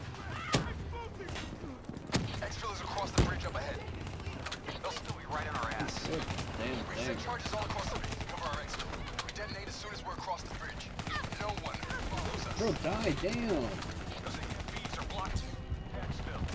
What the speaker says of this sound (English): Shoot you with an SMG from close range, bro, you need to die.